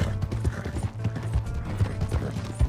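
Galloping horse hooves from Red Dead Redemption, a steady, rapid thudding clip-clop rhythm, loud and close, with faint mechanical jingling over a constant low rumble and no speech.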